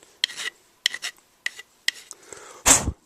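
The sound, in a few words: filing down excess material on a camcorder battery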